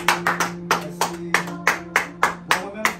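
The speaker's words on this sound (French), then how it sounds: "Une fois encore, mes amis, en nous applaudissant" Sharp rhythmic handclaps, roughly a dozen evenly spaced beats, ring out close and clear over a steady low hum during a musical comedy performance.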